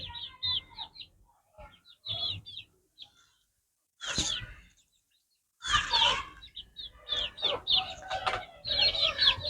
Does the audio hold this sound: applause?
no